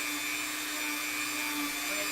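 A Dremel rotary tool runs at a steady, high-pitched whine, close and loud, with no talking.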